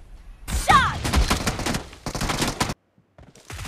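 Gunfire in PUBG Mobile during a team deathmatch, with dense bursts of rapid shots over about two seconds, a brief silence, then more shots. Other game sounds are mixed in.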